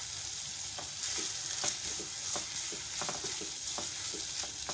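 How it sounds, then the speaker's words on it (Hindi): Spiced minced meat with potatoes frying in a pan, a steady bright sizzle with soft intermittent stirring scrapes throughout, fairly quiet and close. "मसाले डालने के बाद हम 2-3 मिनट इसको भून लेंगे।"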